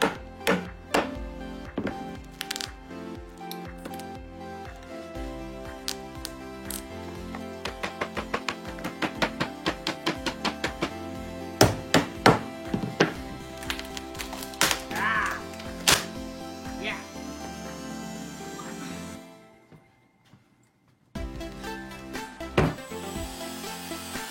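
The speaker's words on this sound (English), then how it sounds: "Then I got out a good old-fashioned crowbar to pry this thing off." A crowbar pries off a wooden piece fixed with hot glue and nails, producing close creaks, sharp taps and knocks, and scraping rubs in uneven bursts, with a short silent gap before the work continues.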